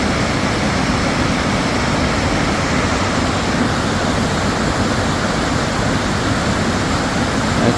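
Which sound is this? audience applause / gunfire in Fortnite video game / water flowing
water flowing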